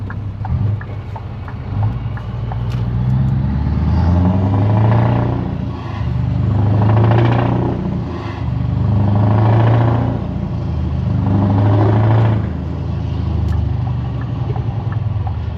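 Scania R500 V8 truck with a loud exhaust, circling an industrial estate: a deep, throaty engine rumble rising and falling in repeated surges as it revs, echoing off nearby buildings, steady and close throughout.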